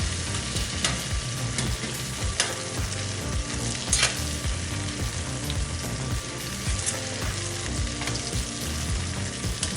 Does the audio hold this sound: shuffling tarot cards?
no